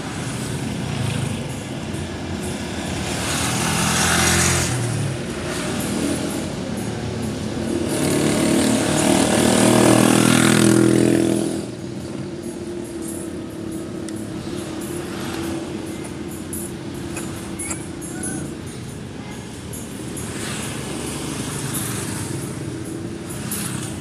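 A car engine hums low and steady while crawling through jammed traffic, swelling briefly as it accelerates and then settling back into a constant idle-like drone, with no talking.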